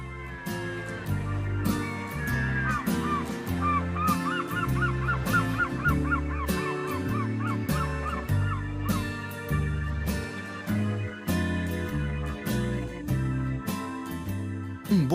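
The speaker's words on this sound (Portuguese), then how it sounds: "ouvir o som das gaivotas" Seagulls cry repeatedly in short squawking bursts over a steady musical background, no voices heard, by the sea on France's Alabaster Coast.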